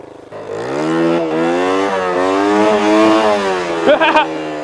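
Small 80cc dirt bike engine revving up through the gears, a buzzing mid-pitched whine that rises and holds, close and loud, with a sharp burst of revs near the end.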